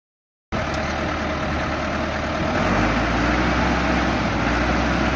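After a short silence, a tractor pulling a seeder machine for sowing corn rumbles in with a steady, close engine drone that swells slightly louder partway through and keeps running.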